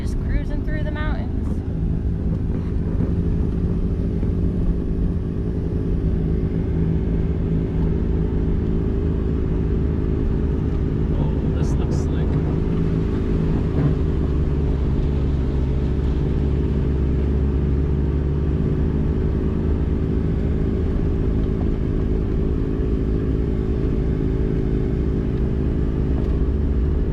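A wagon rolls off-road through Utah mountain terrain during a Gambler 500 event, its body caked in mud, producing a steady, close engine drone and low rumble that holds unbroken for the whole stretch.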